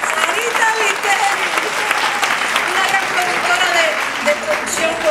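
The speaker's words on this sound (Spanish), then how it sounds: "Así que un aplauso para Sarita." Sustained audience applause at a Latin awards gala honoring Sarita Viteri, a steady dense wash of clapping with a voice talking over it throughout.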